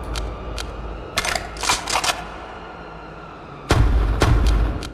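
Pistol shots in a video game dungeon: two or three sharp cracks in the first second, a rapid cluster of shots around 1.2 to 2 seconds, then heavier close reports near the end over a low hum.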